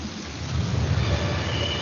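Rain falls in the Andes as a steady, dense hiss with a low rumbling undertone, continuous and fairly loud, with no voices.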